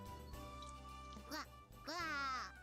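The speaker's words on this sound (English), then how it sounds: "Even as Hat walked around her feet and quacked, Hamane-san was quietly immersed in her work" A duck in the visual novel If My Heart Had Wings gives two short, nasal quacks over quiet, steady background game music.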